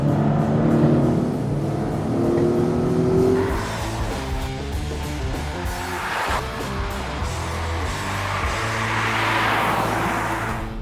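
A Volvo XC40 B5 R-Design accelerates hard on a winding road, heard from inside the cabin as a rising engine drone with gear changes and road roar, steady and moderately loud, without talk.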